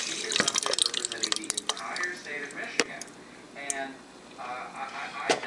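Water pours and splashes into a pot while Haitian-style wheat (ble) cooks, a close, irregular run of trickling and dripping with clanks, and a voice talking over it in places.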